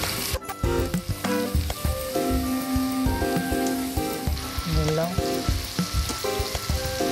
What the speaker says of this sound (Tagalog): yung pagprito natin ng beef, siguro mga 2 minutes or 1 minute lang per side